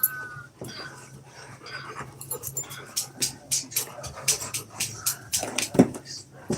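Several dogs pant and whimper close by in a home, with short, rapid bursts of breathy noise repeating unevenly throughout, mixed with faint background voices.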